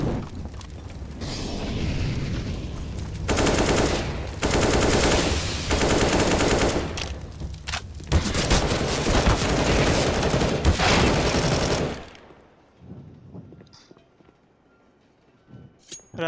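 Loud, dense automatic gunfire from the game CS:GO during a tournament semifinal or final match, overlapping bursts for about twelve seconds, then mostly quiet with a few faint distant shots.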